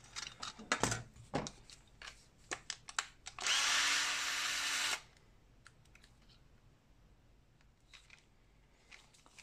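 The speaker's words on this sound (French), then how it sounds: "j'ai ma perceuse IKEA, un set de forêt, donc je vais prendre un forêt de 2 mm" An IKEA power drill fitted with a 2 mm bit whirs in a single steady burst of about a second and a half, surrounded by scattered clicks and taps from handling.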